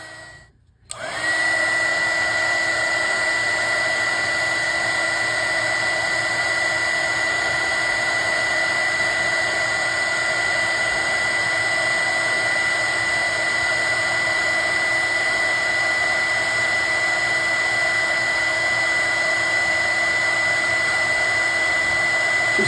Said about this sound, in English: It's well worth buying this heat gun to make it easier to put these together.